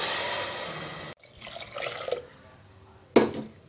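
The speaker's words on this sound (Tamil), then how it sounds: "வச்ச கிண்ணத்துலேருந்து 1/2 கிண்ணம் தண்ணி ஊற்றலாம்." Half a cup of water pours into a hot cooking pot of fried ginger garlic paste for kuska, a loud steady rush that cuts off abruptly, then faint bubbling and a sharp splash.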